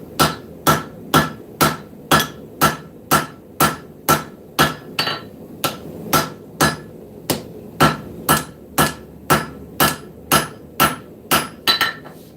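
A blacksmith's hammer forges hot metal in a shop with a rapid, even series of loud, close strikes. More than twenty blows ring out in a steady rhythm with no talking.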